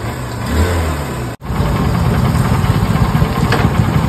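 A Honda Unicorn motorcycle engine runs steadily close up, loud and even with a slightly rough mechanical tick, broken by one brief dropout before settling back into a constant idle.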